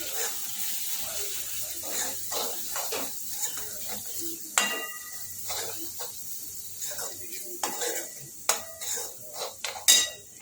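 Chole masala spices, turmeric and garam masala, are mixed in a pan with a spoon that clinks and scrapes against the metal over a light sizzle, ending in a few louder knocks.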